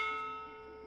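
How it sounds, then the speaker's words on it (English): A bell rings in the video game Dreamfall: Chapters, heard as a single resonant chime with bright overtones that slowly fade, fairly quiet and alone. "Oh, there's a bell."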